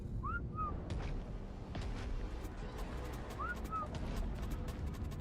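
In Ark Survival Ascended, a player's whistle command to tamed creatures sounds as two short rising-falling whistle pairs, one near the start and another a few seconds later, over steady game background noise.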